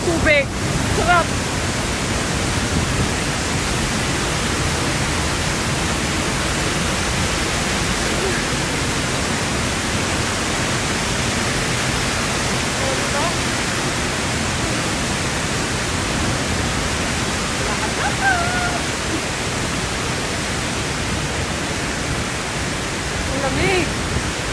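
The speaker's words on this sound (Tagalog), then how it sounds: "Ang ingay ng tubig." Loud rushing water roars along a cold outdoor walking path, a constant heavy hiss like a nearby torrent or falls that stays steady and overwhelming throughout.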